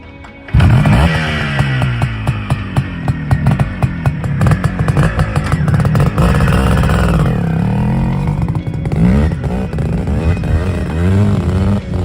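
A vintage CZ250 motocross motorcycle from the 1960s–70s era revs hard and close, its rough two-stroke engine rising and falling in continuous loud bursts throughout.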